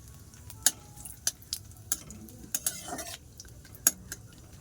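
Bay leaf, cardamom and cumin sizzle in oil that still held a little water, a soft background crackle broken by sharp, irregular spits and pops, close and fairly quiet.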